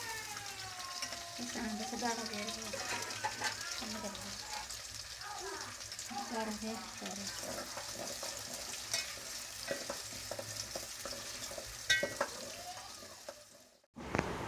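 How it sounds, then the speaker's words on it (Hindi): Two onions fry in oil for chicken korma, a soft sizzle with intermittent stirring scrapes, fairly faint, while a voice talks over it and a brief clatter sounds near the end. "अब इसी ऑयल में हम 2 अदद प्याज ऐड करेंगे और कलर चेंज होने तक चलाते रहेंगे।"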